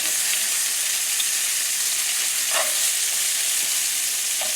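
Swedish meatballs sizzle and fry steadily in a saucepan, a loud, continuous crackling hiss with small pops, heard alone without voices.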